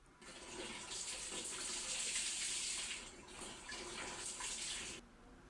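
Water poured into a saucepan while cooking a chicken dish in sauce with flour stirred in, a steady splashing pour running for about five seconds before stopping abruptly.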